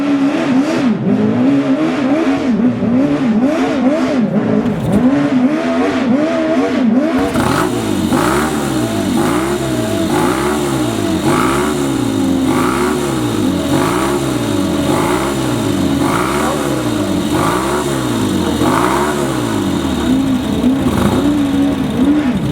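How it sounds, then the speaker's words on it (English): A Norton motorcycle engine cranks and catches, then settles into a loud, rhythmic revving that rises and falls repeatedly, close by and without talk. "Let me just fire it up to make the funniest noise."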